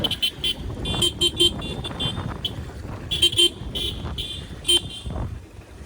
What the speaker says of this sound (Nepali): हाम्रो केटाहरू हर्न बजाउँदै हिँड्दैछन्